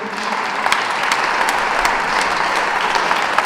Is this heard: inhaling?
no